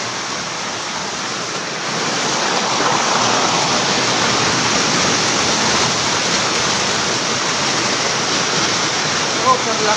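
Floodwater rushes along a road in Bonbon, Libon, Albay, a loud, steady broadband roar that swells slightly after the first two seconds and holds without a break.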